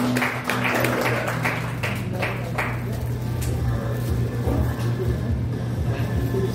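Applause at a church Christmas party, a burst of clapping from the congregation early on that fades under a steady hum and voices talking.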